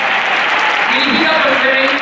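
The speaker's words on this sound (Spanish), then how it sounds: "dar un aplauso a esta orquesta" Dense audience applause for an orchestra at a live concert in Córdoba, steady and loud throughout this brief stretch, with faint voices underneath.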